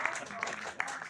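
Short, fairly faint burst of audience applause at a Hindi kavi sammelan poetry gathering, scattered claps blending into a brief patter, with a voice speaking over it.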